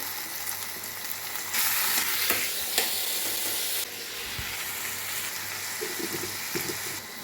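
Tamarind, chillies, tomato and thuthuvalai leaves fry in a pan, a continuous close sizzle that swells loudly as ingredients drop in, with scraping stirs and clinks throughout, no voices.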